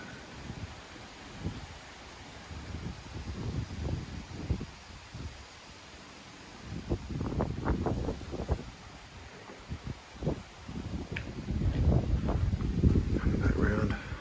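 Strong wind blows across an open outdoor airfield site, buffeting the microphone in uneven gusts that swell and ease, with rustling and low rumbling bursts throughout.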